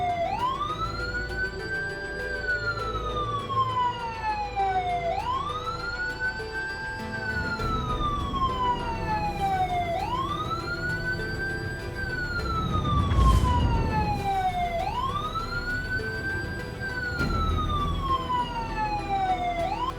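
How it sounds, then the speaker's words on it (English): A custom siren on a spaceship in the game Star Citizen wails loudly in a steady repeating rise and fall, each cycle lasting about five seconds, over a low engine rumble. "I've added my own siren as well"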